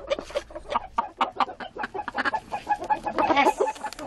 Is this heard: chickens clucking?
yes